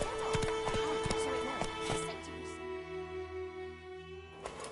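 Horse hooves clip-clop in a quick run of hoof beats in The Witcher 3 video game, close and fairly soft over a sustained musical score that carries on after the hoof beats thin out.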